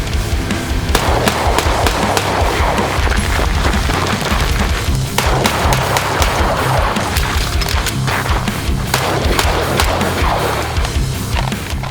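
Pistol shots crack in rapid strings during an agency qualification drill of 13 rounds with an empty-gun reload, loud and close, each report sharp and echoing over the range.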